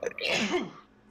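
One sharp human sneeze, close and loud, over in about a second.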